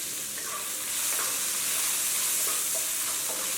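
Red pepper strips sizzle and crackle as they are stir-fried in hot oil with beef sauce and garlic, a steady, close, bright frying hiss that swells slightly partway through, with no voices.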